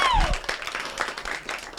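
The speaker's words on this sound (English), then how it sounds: "A round of applause." A short burst of audience applause at a tavern open mic night breaks out right after a voice finishes speaking, a brief dense clatter of clapping that trails off quickly.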